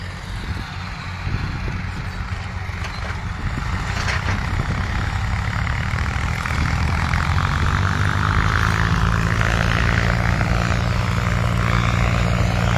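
Tractors cutting crops in a field give a steady, heavy engine drone with a throbbing low rumble and mechanical whine that continues throughout, close and loud with no pauses.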